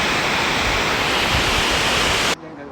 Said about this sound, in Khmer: ពុំភ្លៀងជុះខ្លាំងណាស់